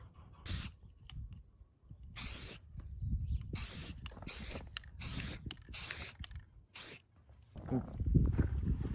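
Repeated bursts of aerosol spray paint hiss in short blasts, about seven of them, separated by brief quiet gaps, close and fairly loud, while camouflage-painting a rifle.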